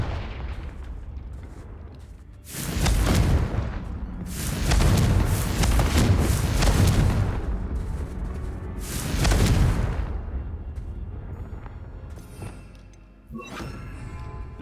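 Explosions from the Confringo blasting spell in a video game, several heavy booming bursts a few seconds apart with rumbling decay, loud and close, then a quieter final burst.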